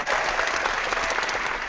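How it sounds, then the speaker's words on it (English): A crowd applauding, steady dense clapping that fills the short moment without pause. "Well done. Applause, applause."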